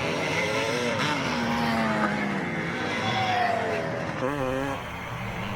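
Classic twinshock motocross motorcycles, among them a Suzuki RM 400, racing in an over-50s class at Drumlanrig Castle, Scotland, with engines rising and falling in pitch as bikes rev and pass at mid distance under a commentator's voice.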